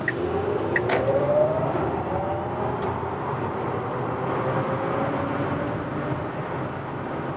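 A Tesla Model X 100D electric car accelerating hard at full throttle, heard from inside as a steady road and motor hum with a faint rising whine.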